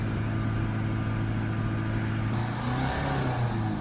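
A Range Rover Evoque 2.2 diesel with a too-low particulate filter pressure fault is revved steadily, its engine note holding then climbing slightly near the end, a continuous mid-level drone heard close up with no voices.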